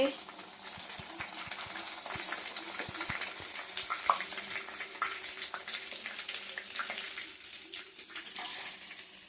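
Puri dough frying in hot oil makes a steady, dense sizzle and bubbling that runs throughout, close up, with faint clinks of utensils and no talk.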